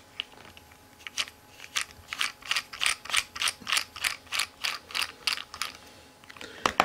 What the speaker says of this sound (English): So we're going to work loose these two screws.